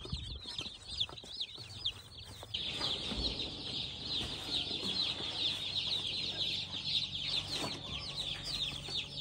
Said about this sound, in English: That's 100 teeny tiny meat birds.